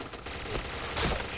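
Gunfire in a video game: several sharp, close shots burst out in quick succession over a noisy background, with a louder crack near the end.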